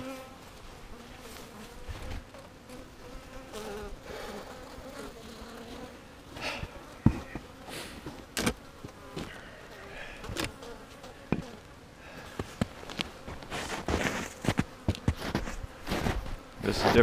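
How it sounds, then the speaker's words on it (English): Bees buzz steadily inside an opened hive insulated with carpet on a warm March day, a soft continuous drone broken by sharp handling clicks and knocks, with occasional louder bursts as individual bees fly close. "Oh, yep, there are bees in here."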